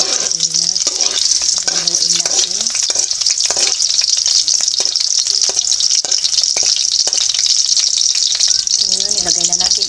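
Chopped onion sizzles and crackles steadily in hot cooking oil for Filipino sautéed squid. The frying is loud and continuous, with occasional stirring and a voice talking over it at times.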